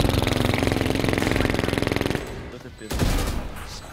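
Rapid automatic gunfire from a Valorant match, a loud, evenly spaced burst lasting about two seconds, then scattered shots and game noise.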